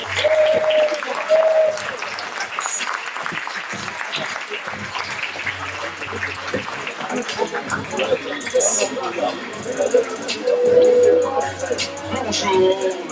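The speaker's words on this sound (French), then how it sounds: "On peut les applaudir très fort, s'il vous plaît" Audience applause at a corporate plenary session as two people are called onto the stage, sustained clapping mixed with crowd murmur and some voices, swelling slightly toward the end.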